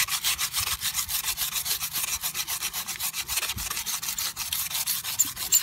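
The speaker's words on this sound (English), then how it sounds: "I got some aluminum foil that I've made into like a scrub ball" A ball of aluminum foil and Diet Pepsi scrubs a grimy engine part from a 1992 Chevrolet Silverado 1500 with quick, rhythmic back-and-forth rasping, close and loud, with no talking.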